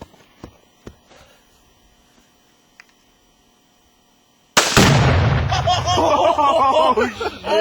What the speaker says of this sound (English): Nice shot, Jim!